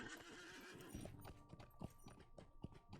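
A horse in the game LOTRO clip-clops steadily and gives a whinny, the faint hoofbeats coming in an even, repeated rhythm.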